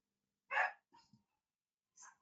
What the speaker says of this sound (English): Sorry if you guys hear my dog barking.